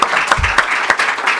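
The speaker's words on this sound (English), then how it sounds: "I think a round of applause" Audience applause at the close of a One Health equity workshop session, a dense wash of many hands clapping with a few sharper spikes, loud and close, with no talking over it.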